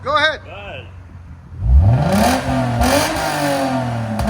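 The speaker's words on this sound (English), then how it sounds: "You can hit that rev. Hit that rev limiter." A 2015 Lexus RC 350 with a 3.5L V6, APEX mufflers and a resonator delete revs hard up toward the limiter after a few short blips, then holds a loud raspy rev. Brief talk comes first.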